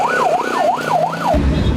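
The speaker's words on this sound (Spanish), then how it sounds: "Las ambulancias empezaron a salir con heridos." An ambulance siren wails outside a prison during a riot, a loud rising-and-falling warble cycling about four times before a low rumble cuts in, with no voices.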